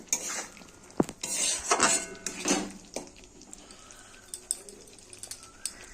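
Prawns stirred with a spatula in a metal pan, a few clanking scrapes and clinks in the first seconds, then quieter intermittent taps over a soft background with faint bird cooing.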